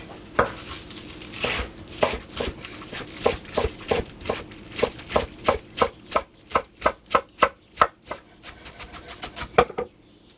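A knife chops scallions on a cutting board while gumbo is prepared, about twenty crisp, close, steady strokes, faster at first and then evenly spaced, each a sharp tap against the board.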